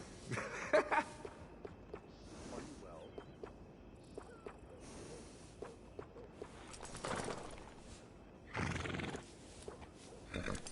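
Horses in Red Dead Redemption 2 neigh and whinny in several loud bursts, with soft hoof clops and small movement sounds between them over a quiet background.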